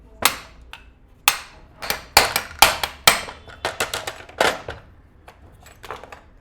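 A punch is hammered to drive out the pulley of a bag closer machine, about twenty sharp metallic blows in uneven bursts, close and loud, with quieter taps between.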